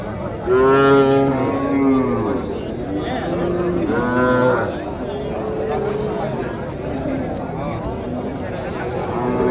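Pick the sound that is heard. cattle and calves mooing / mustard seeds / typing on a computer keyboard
cattle and calves mooing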